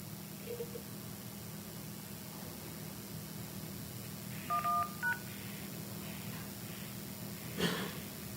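Telephone keypad dialing tones while calling in to a lender's phone line, a short cluster of distinct DTMF beeps over a low steady hum, followed by a brief noise burst.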